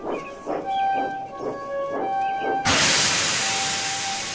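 A steam engine idling at a station platform in an animated railway story, rhythmic puffing giving way to a sudden loud, sustained hiss of escaping steam.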